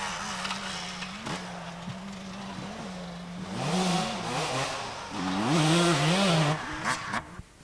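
Vintage enduro motorcycle on a special test at a British championship in Dyfi, its engine droning steadily nearby then revving and wavering in pitch through a tricky corner, loud and alone.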